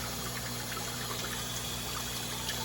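Water from a professional float valve, the kind used to fill livestock troughs, runs steadily into guppy tanks in a fish room, a constant rushing trickle with pump-like hum, even and unbroken throughout.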